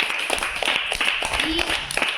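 A group of children in a phonics class clap together in one brief burst, a dense spread of close hand claps heard among voices.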